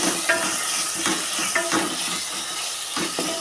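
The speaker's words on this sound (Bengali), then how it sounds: "এই যে খানিকটা টমেটো দিয়ে দিয়েছি" Tomatoes frying with ginger and garlic paste in a pan for beef curry, a steady close sizzle with repeated scraping stirs of a spoon against the pot.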